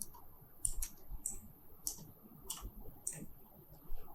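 Keys on a computer keyboard tapped in a short burst of about six sharp clicks spaced roughly half a second apart, close and fairly quiet over a faint room hiss.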